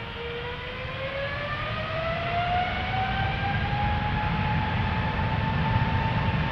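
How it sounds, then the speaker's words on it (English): KLM Boeing 777-300 taking off from Amsterdam Schiphol, a loud sustained jet engine roar with a rising whine that climbs steadily in pitch as the aircraft powers up. "Next up, 777-300 airtime going to Johannesburg in South Africa, KLM flight 591. Lined up, ready to go."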